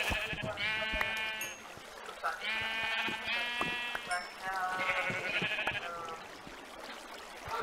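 Sheep in Minecraft bleat repeatedly in overlapping, wavering calls, several animals close by, over a steady background of game ambience and water.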